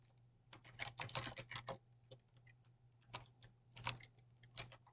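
Rapid clattering keystrokes on a computer keyboard come in dense bursts with short pauses, close and clear over a steady low hum, no voices.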